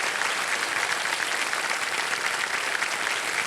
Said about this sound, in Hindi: आपके लिए तालियां बज जाए इनके लिए